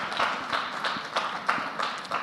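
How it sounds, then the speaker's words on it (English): A crowd at the Amway India Leadership Summit 2025 claps in a moderate, uneven patter, scattered hand strikes blending into a steady wash of applause. "We clap to that."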